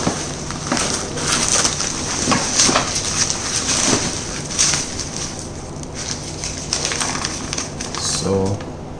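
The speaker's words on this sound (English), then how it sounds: "unwrap it" Packaging around a Sony A7ii camera with 28-70mm kit lens is unwrapped up close, with crinkling plastic and paper rustling steadily alongside scattered crisp crackles, ending in a short burst of tearing.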